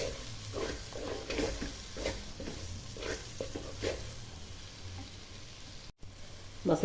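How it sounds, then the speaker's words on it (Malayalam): Masala sautéing in a pan for a Kerala-style chicken curry, a soft low sizzle with repeated rhythmic stirring scrapes, close but fairly quiet, with no voices. "മസാല നന്നായി വഴന്ന് വരട്ടെ"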